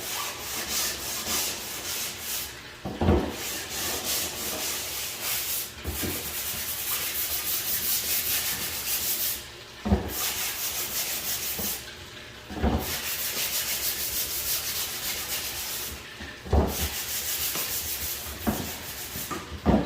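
Raw wood scrubbed with sandpaper to clear burn marks, long steady rasping strokes broken by brief pauses, close and continuous with no talk.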